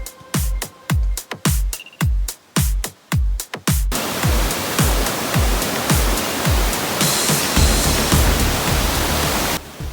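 The rain-fed Anachadikuth waterfall in Idukki: a run of rhythmic thumping pulses gives way to a loud, steady roar of rushing, cascading water that fills the rest of the scene.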